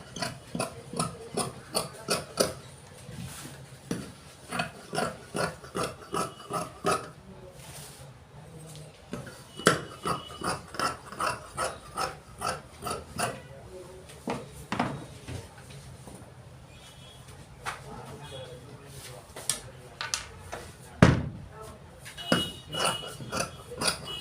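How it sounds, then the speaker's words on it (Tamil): Scissors cutting chudidar fabric: a quiet, rhythmic series of snipping crunches in quick bursts, pausing briefly between runs, close up with no talk. "இப்போ ஒரிஜினல் துணியில் வெட்டிகிட்டு இருக்கோம்."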